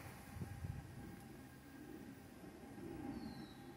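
Norfolk Southern autorack freight train rolling slowly past, a faint, steady low rumble of wheels and cars at a distance with no talk over it.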